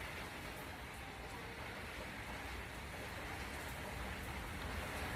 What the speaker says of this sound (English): that rain hitting the doors, it's getting too loud to read.